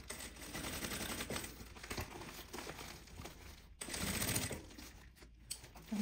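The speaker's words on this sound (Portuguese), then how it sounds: "Tá costurando" A domestic sewing machine stitches a thermal bag, giving a steady, dense mechanical whir that runs almost continuously, with a couple of brief pauses and no talking.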